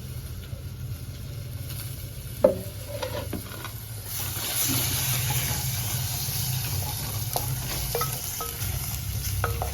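Tomatoes fry and sizzle in a pan for a prawn curry, with a spoon stirring and scraping through steady close sizzling and one sharp knock early on.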